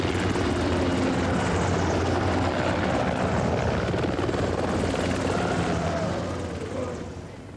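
A military helicopter flies close by, its rotor and turbine roar loud and steady throughout before easing off slightly toward the end.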